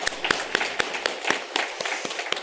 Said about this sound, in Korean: 우리 모두를 위해서 정말 하나님의 정말 큰 은혜가 우리 아동부 가운데 임할 수 있도록 다시 한번 박수로 축하하고 축복하겠습니다